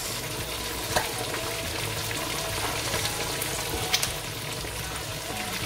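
Chopped bell peppers being stirred into eggplant frying in a pan, a steady sizzle with occasional scraping of the spoon, close and continuous with no talking.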